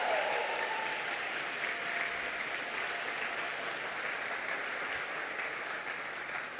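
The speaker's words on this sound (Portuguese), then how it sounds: "Pode aplaudir, pode aplaudir" Church congregation applauding at a Portuguese-language sermon on Habakkuk, a steady, dense wash of clapping that holds evenly throughout without voices.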